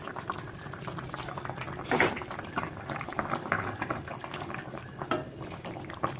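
Parshe fish curry with potato, eggplant and lentil dumplings simmering on low heat gives a steady, close bubbling patter, with one brief utensil clink early on.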